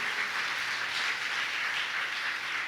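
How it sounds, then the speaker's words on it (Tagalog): A church congregation claps together during a sermon, a steady, dense wash of applause from many hands filling the room evenly from start to finish with no voices on top. "Pumalakpak ang nananalig."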